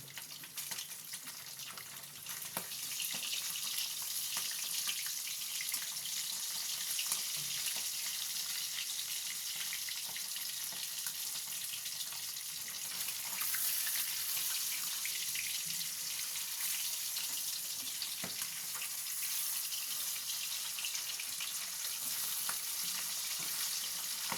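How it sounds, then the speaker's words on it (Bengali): Rohu fish pieces fry in a pan with a soft, continuous sizzle and hiss that holds steady at low volume for the whole stretch. "এইভাবে আমি মাছগুলোকে ভেজে নিই"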